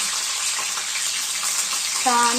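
Chopped green chillies sizzling in hot oil for a methi bhaji with crushed peanuts, a steady hissing fry throughout, with a brief voice near the end.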